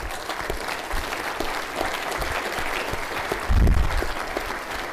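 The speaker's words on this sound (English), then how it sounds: "how about a round of applause for SWOs?" A large audience at a Surface Navy Association symposium keynote applauds surface warfare officers, a steady moderate wash of clapping with a brief low thump partway through.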